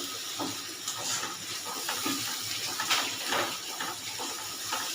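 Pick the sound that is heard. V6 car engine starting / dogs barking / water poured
water poured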